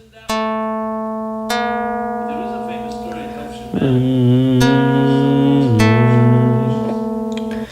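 Two steady electronic tones a neutral second apart (12/11 ratio) sound one after another, then together in a tense, beating interval, the sustained notes close and clear with no talking.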